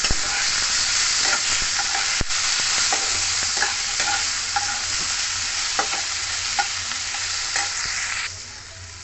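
Tofu and vegetables stir-fry in a pan, giving a continuous close sizzle with frequent clinks and scrapes of a spatula stirring, fading somewhat near the end, with no talking.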